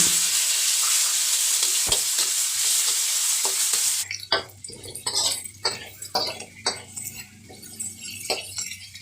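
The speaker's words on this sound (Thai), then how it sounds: "หมูสามชั้นค่ะแล้วก็นำมาคั่วก่อนนะคะ" Pork belly is dry-fried in a pan, first as a steady loud sizzle, then giving way to scraping and stirring clinks of a utensil against the pan over a low hiss, with no talk.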